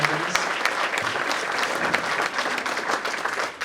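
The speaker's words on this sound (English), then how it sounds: "a round of applause for everyone who helped decorate, who helped register people" A room full of people at a political party breakfast fundraiser applauds the volunteers, dense steady clapping that holds at full strength for several seconds before tapering slightly at the end.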